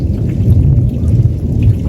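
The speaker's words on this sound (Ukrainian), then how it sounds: "Така гроза, такий дощ." Heavy rain pours down steadily during a night thunderstorm at a carp fishing competition, a loud dense patter with a low rumble of thunder underneath and no voices.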